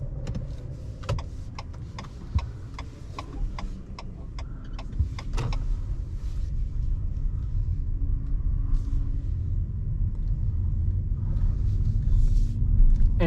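Cabin of a Renault Captur E-Tech hybrid driving at night, with a steady low road rumble and engine hum, a run of light clicks early on, and the drone slowly growing louder.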